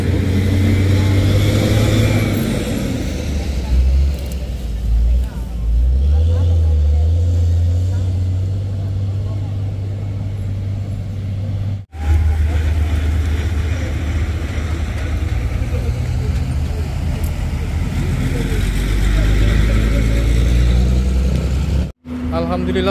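A truck's diesel engine runs steadily after a new battery is fitted, a loud continuous low rumble with a couple of brief dropouts, while people talk over it throughout.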